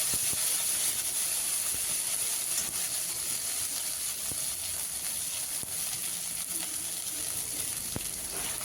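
Ginger and cumin paste frying in hot oil with bay leaves for a rui posto fish dish, giving a steady, even sizzling hiss throughout with a few faint clinks.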